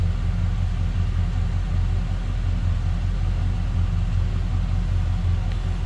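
A 1977 Chevrolet Monte Carlo Landau V8 idles steadily after warming up, settled from high idle into a low, even rumble that holds constant throughout, with no talking.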